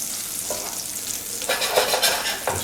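Pancetta bubbling and crisping in a pan for a pea pasta, with a close, crackling sizzle and stirring scrapes that grow louder and busier in the second half.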